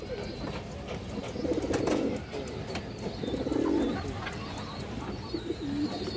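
Pigeons of fancy breeds kept for sale in Bangladesh coo in low, throaty bursts, two longer rolls standing out over a steady background murmur, with a few shorter coos near the end.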